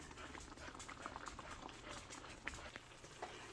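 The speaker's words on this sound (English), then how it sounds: "Hear it bubbling?" Soft, steady bubbling and simmering of a chicken and rice dish in a pot, with small pops and light patter over a low, continuous hiss.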